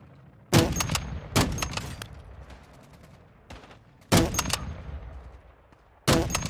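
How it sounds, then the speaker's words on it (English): Bursts of gunfire ring out in the Warzone 2 video game, a few sharp loud volleys spaced seconds apart. Each volley trails off into a rumbling echo before the next one starts. "Somebody's shooting at him, bro."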